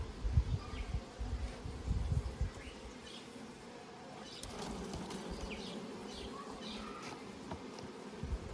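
Honeybees buzz around an opened hive during frame inspection, a steady low drone of many insects that stays close and continuous, with occasional handling knocks and no talk over it.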